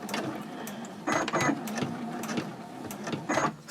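A sewing machine stitches the interior lining of a Chatelaine purse, running in short bursts with brief pauses between, close and fairly loud with a steady mechanical whir.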